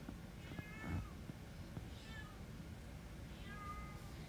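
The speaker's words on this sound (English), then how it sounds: "my cat's crying right now." A pet cat meows several times indoors, a few drawn-out cries spread over a few seconds against quiet room noise, fairly faint and slightly distant, with no talking.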